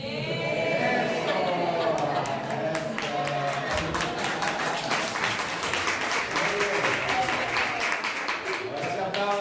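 A church congregation bursts into sustained applause, dense clapping filling the room steadily from start to finish, with a few voices and calls mixed in among the crowd.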